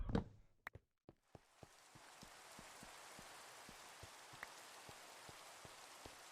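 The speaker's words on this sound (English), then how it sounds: "Twice in 30 minutes it's rained on the server." Steady rain falls across a Minecraft-style game server, a continuous soft patter with a few sharp knocking clicks scattered through it, following a brief louder thump at the start.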